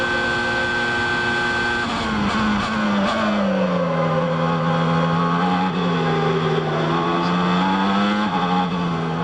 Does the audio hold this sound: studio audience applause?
no